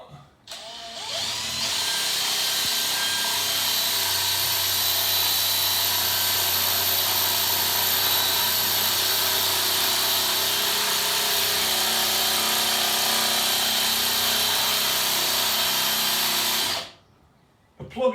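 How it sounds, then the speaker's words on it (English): A power drill runs loud and continuous for about fifteen seconds, a steady high whine grinding into a bathroom wall to make a hole for a wall plug, then cuts off abruptly. "All we're doing is drilling it enough to get a plug in there"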